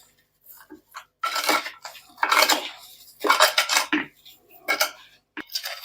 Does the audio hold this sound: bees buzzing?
no